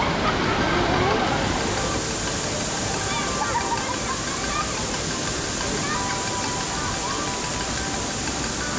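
Steady, loud roar of a waterfall on Siquijor island filling the whole clip, a dense constant rush with a brief shift in tone near the start.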